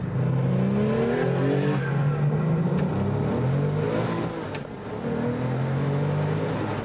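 A Porsche 911 Turbo pulls hard under acceleration, its engine note climbing steadily in pitch through the gears with a loud, continuous roar heard from inside the car.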